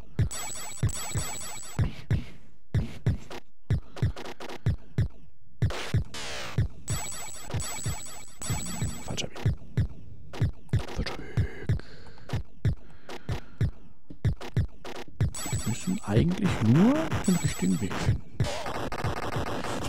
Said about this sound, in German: Man hört den Herzschlag schon.